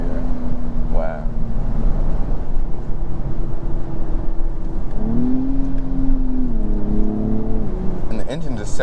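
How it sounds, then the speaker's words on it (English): Engine of a 2022 Acura TLX Type S pulls hard under acceleration, its pitch rising then dropping with a gear change and climbing again, heard from inside the cabin with brief talk at the end. "And the engine just sounds so good."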